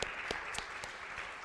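A church congregation applauds in a short burst of brisk clapping, several distinct sharp claps standing out over a steady bed of hand claps.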